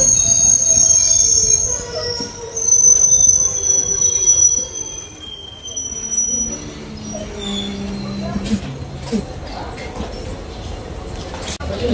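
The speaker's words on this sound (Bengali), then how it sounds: "যোগীর ঘোপা দাঁড়িয়ে পড়লো আমাদের ট্রেন।" A local passenger train in Assam pulls into Jogighopa, a small station, its wheels giving high, thin metallic squeals that fade as it slows, over a rumbling undertone with scattered knocks and clatter.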